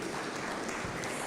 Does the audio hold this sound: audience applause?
yes